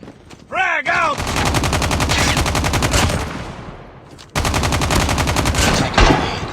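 Automatic weapon fire in Call of Duty Mobile blasts in two long, rapid bursts separated by a short gap, loud and close, with a brief whooshing effect and a short game voice cue at the start.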